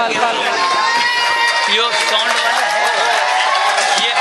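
A large audience at a mushaira award ceremony in Meerut claps and cheers steadily to welcome guests, a dense continuous roar of applause throughout.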